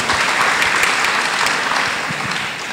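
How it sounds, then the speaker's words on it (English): Loud, dense applause from an audience at a forum on life and death fills the whole short stretch without a break. "you should give yourself a round of applause"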